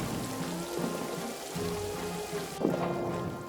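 Rain and thunder in the trench warfare game All Quiet in the Trenches, a steady rainfall hiss with low rumbling thunder underneath and a sharper burst near the end, no voices.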